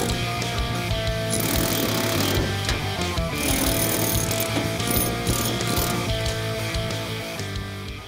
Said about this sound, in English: then we'll grab the air chisel to split the seams